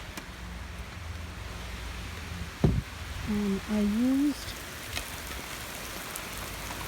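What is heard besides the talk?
heavy rain falling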